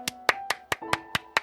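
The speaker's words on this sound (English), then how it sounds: "Round of applause for me." A single person's hands clap seven times in a quick, steady rhythm, close and crisp, with a faint tone lingering underneath.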